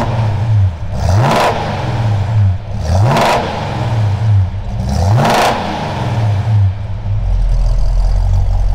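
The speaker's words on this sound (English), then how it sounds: "Okay, give it a couple little blips of throttle." A V8 car engine with its mufflers changed blips the throttle three times, rising from a loud, near idle rumble in evenly spaced revs before settling back to a deep idle.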